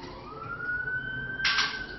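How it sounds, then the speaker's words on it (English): An emergency vehicle siren wails with a steady rising tone, moderately near, over low background noise. "Hear that siren"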